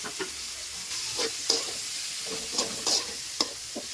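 Greens with onion, garlic and salt frying in a pan, a steady low sizzle broken by several sharp scraping stirs of a spatula, close and moderately loud with no voices.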